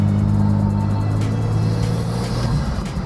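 A BMW M2 with an MHD Stage 2+ tune drones under steady throttle in sport mode, a close, continuous low engine hum with a faint rising turbo whine above it.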